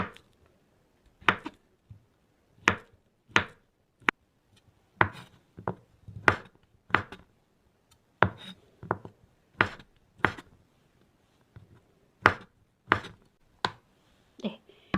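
A knife chops ingredients into slices about 1 cm thick on a cutting board for Korean army base stew, with sharp, evenly spaced knocks repeating steadily, close and clear against a quiet room.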